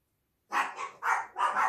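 Dogs bark three times in quick succession, sharp close barks after a moment of silence, loud and alone with no talking.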